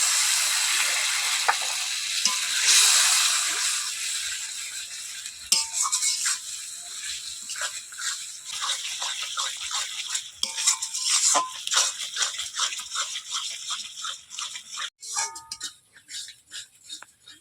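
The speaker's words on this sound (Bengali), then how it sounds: "মশলা করার জল দিয়ে মশলাটা ভালোভাবে কষিয়ে নেবো" A ground spice paste with turmeric fries in a pan with a little water for chicken kasha. A dense hiss fades into repeated scraping and stirring clatter of a utensil against the pan.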